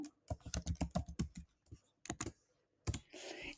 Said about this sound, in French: quand je tape option A